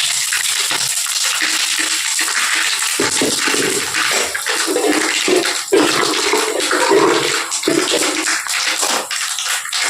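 Mustard seeds splutter and crackle in hot oil for a tomato pickle, a dense, continuous popping hiss with sharper bursts throughout.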